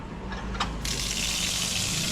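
Water gushes from a household tap fed by a pressure tank, a steady close rushing stream that starts abruptly partway through and keeps flowing evenly to the end, with no voices.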